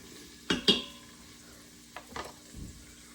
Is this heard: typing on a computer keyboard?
no